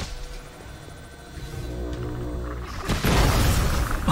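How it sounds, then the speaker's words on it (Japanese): Explosion in the video game Predator: Hunting Grounds. After a quieter stretch of game ambience, a sudden loud, broad burst hits near the end and holds as a roaring wash. "なんか爆発したね"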